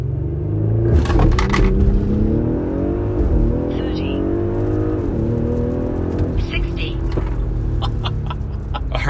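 A car with a 034 Motorsport Stage 1 tune accelerates hard. The engine note climbs loudly and drops sharply at each of several quick gear shifts, all under a steady, rumbling cabin drone.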